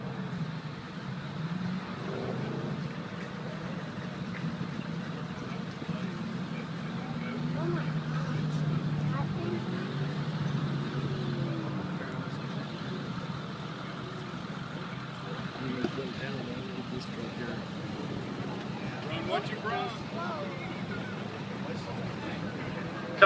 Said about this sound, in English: On the course right now is Joe Gonzalez in the Z01 Camaro.